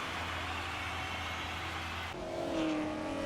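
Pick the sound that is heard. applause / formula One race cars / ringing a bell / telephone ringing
formula One race cars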